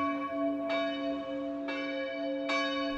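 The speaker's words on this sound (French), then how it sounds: "Les cloches sonnent" Church bells ring with bright, sustained tones, three distinct strikes spaced evenly, each blooming and lingering over a steady humming drone.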